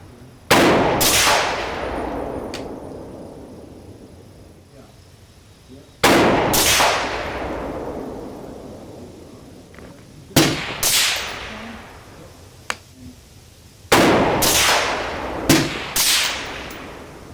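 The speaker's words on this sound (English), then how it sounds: "Let's go ahead and put 3 more rounds and see where those land." Loud rifle shots from a PSA AR10 fired outdoors at long range on a windy day, arriving as separate cracks and short clusters with long decaying echoes between them.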